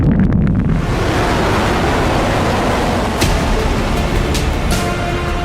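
A Rocket Lab rocket lifting off, heard as a loud, broad rushing roar with heavy wind-like buffeting that stays dense and steady throughout, with a few sharp crackles.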